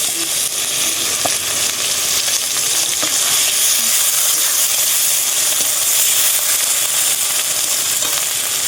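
Chicken spices frying in oil in a pan for a chicken and potato curry, a steady close hiss and sizzle with occasional stirring scrapes throughout.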